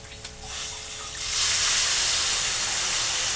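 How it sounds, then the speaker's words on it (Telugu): Soaked tamarind pulp is poured into a cooking pot for a tamarind stew. A soft, splashy hiss swells after a quiet start and then holds steady and close. "దానికి అంతా పల్పు అంతా కూడా తీసుకొని ఇందులో వేసేసుకోవాలి."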